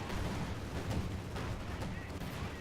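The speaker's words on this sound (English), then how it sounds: "Flak Panzer and Panzer IV just inflicting a lot of damage there on that T-34." Tank fire from a Flak Panzer and a Panzer IV hitting a T-34 during a 3v3 Company of Heroes 2 battle on Angermuende: dull, rumbling bursts of game gunfire, faint and layered in a busy battle din.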